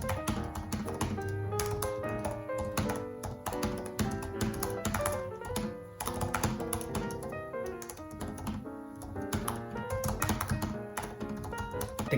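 Steady, rapid typing on a 2018 MacBook Pro laptop keyboard, dense clicks and taps continuing throughout, fairly close and even in level, with no talking.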